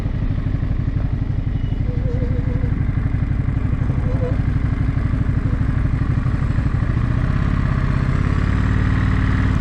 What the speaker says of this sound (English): I'm aboard my 2021 Ducati Monster.